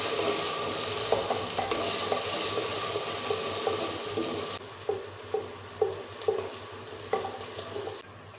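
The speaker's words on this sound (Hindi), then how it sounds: "अब मैं इसके अंदर लहसुन और अदरक का पेस्ट ऐड कर दूंगी। और इसको भी 1 मिनट के लिए फ्राई कर लूँगी।" Garlic and ginger paste fries in a pan with onions already browned, a soft steady sizzle broken by regular stirring taps, heard close with no voices.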